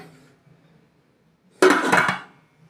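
A lid set onto a rice pot filled with water, one short clanking metal knock close by, after a quiet pause and then fading.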